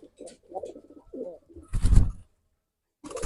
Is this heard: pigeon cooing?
yes